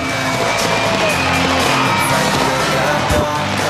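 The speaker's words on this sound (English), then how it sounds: "You can hear the crowd roaring." A graduation crowd roars from packed stadium stands, a loud, steady wash of cheering and yelling with no break across the whole stretch.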